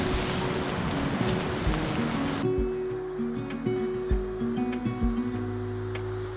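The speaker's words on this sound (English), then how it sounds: "trapping us on our little oasis in a frigid north storm, waves hammering the shore" Rough surf and wind of a cold northern storm on a Hudson Bay route roar loudly for a couple of seconds, then give way to a steady tonal drone with faint water sounds underneath.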